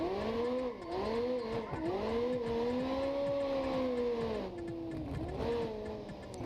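A rear-wheel-drive car in BeamNG.drive drifts through corners using the e-brake and feathered throttle, its engine revving up and down in loud wavering sweeps with tire squeal, close and with no talk.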